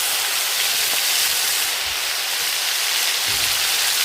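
Ginger and green chilies sizzle in hot oil with tempered spices, a steady, loud, close hiss of frying with no talk.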